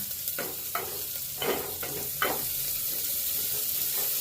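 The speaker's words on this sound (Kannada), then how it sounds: "ಒಂದೆರಡು ನಿಮಿಷ ಆನಿಯನ್ ಆಯಿಲಲ್ಲಿ ನೀಟಾಗಿ ಫ್ರೈ ಆಗಲಿ." Onions frying in oil in a pan over a lowered flame while being stirred, a steady soft sizzle with a few brief scraping stir strokes near the start, close by and without voices.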